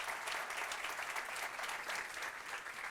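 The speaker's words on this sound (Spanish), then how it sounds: "quiero primero un aplauso para los organizadores" An audience at the T3chFest 10 tech conference applauds the organizers with steady, dense clapping that holds evenly across the whole stretch, close and full with no voices on top.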